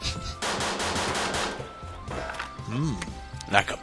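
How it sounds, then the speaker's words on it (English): A machine gun in the Scribblenauts video game fires a fast, loud rattling burst, followed by smaller hits and cartoonish effects, with a voice speaking briefly near the end. "Machine gun! Target practice that!"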